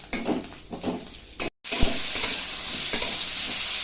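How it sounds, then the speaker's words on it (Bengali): Whole cumin, ginger and dried chillies fry in hot oil with a loud, crackling sizzle in uneven bursts, briefly cut off by a short gap before the frying hiss resumes strongly. "তেল গরম হয়ে গেছে, দিয়েছি গোটা জিরা, আদা আর এই শুকনো লঙ্কা দিয়ে দিচ্ছি।"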